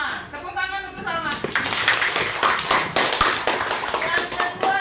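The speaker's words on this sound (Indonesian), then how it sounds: "Tepuk tangan untuk Salma" Classroom of about thirty pupils clapping for a student, a steady burst of many hands patting together, moderately loud and close, with a teacher's voice heard before it.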